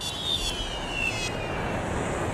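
Airplane coming in to land on one engine, a steady loud engine roar with a faint high whine sliding slowly downward, unbroken throughout with no voices.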